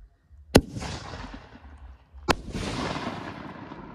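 Two loud aerial canister shells from the Barely Legal line by Showtime, a silver coconut break with red glitter, each a sharp booming blast followed by a long fizzling, crackling tail.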